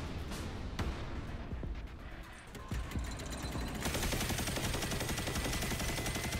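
Rapid gunfire from the Destiny 2 video game during Guardian Games 2021, with dense bursts of automatic shots under a constant loud game-noise bed and a brighter, fuller rattle near the end.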